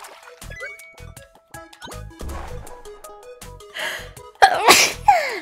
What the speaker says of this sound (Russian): только бы не чихнуть